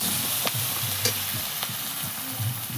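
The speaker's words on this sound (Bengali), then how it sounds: "দেখো কড়াই মাছ তুলে দিয়েছি, আর একটু হালকা গরম হচ্ছে" Fish sizzles steadily in hot oil in a kadai, a constant bright frying hiss with a few soft clinks and scrapes of a utensil against the pan.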